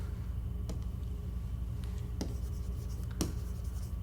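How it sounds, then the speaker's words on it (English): A few brief strokes of writing over a steady low room hum, three distinct scratchy marks spaced about a second apart, quiet and close. "Let me just write this down."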